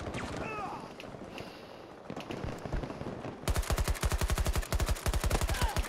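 Gunfire and sniper shots in the video game Battlefield, at first scattered distant cracks under talk, then a sustained, loud rapid burst of automatic fire rattling steadily for a couple of seconds.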